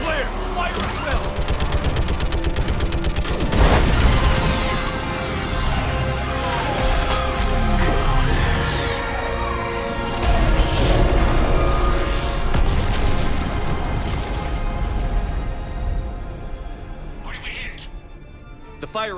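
An orbital strike in Mass Effect 3 pounds down in heavy booming blasts amid constant loud battle noise, sweeping whooshes and sustained roaring, with voices speaking over the barrage.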